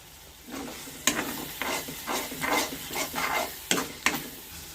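Onion paste frying in a pan with salt and chili powder, stirred in repeated rhythmic strokes that make pulsing sizzles, punctuated by a few sharp clinks of the spatula against the pan, near and without speech.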